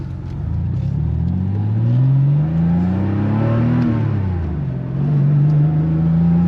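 A 1987 Porsche 911 Carrera engine pulls hard at full throttle, its note rising steadily through the revs, dipping briefly at a gear change, then climbing again, loud and close from inside the car.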